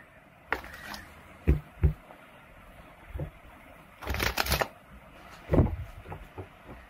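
Tarot cards shuffled and drawn during a reading, producing quiet, close, scattered riffling and soft slaps of cards hitting a table in several short bursts, with no talking.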